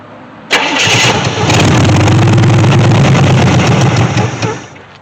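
A 1964 Chevy Impala SS convertible engine that sat for 35 years cranks and catches, then runs loud and rough, sustained for several seconds before easing down.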